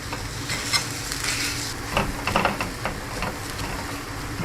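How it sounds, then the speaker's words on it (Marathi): Boiled potatoes mashed and stirred with masala in a pan, a steady scraping and sizzling texture with repeated soft knocks of the utensil, continuous and close with no talking. "बॉयल्ड बटाट घालता आतां लायक करून मॅश करता"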